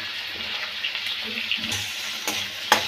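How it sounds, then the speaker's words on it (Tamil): Onions and tomatoes sauté in a hot pan for a Karnataka-style idli sambar, giving a steady close sizzle with a few soft spoon scrapes and taps over the frying hiss. "இப்போ தக்காளி எல்லாம் நல்லா வதங்கி வரணும்"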